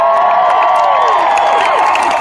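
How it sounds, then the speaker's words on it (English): A large rally crowd at a presidential appearance at CSU cheers and whoops loudly, a sustained roar of raised voices with high, gliding shouts over the top. "First of all, give Haley a big round of applause for her."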